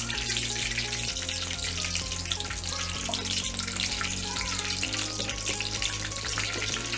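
Fenugreek seeds sizzle in hot oil for a Tamil egg kuzhambu, a steady crackling fry heard alone, with a low hum running beneath it.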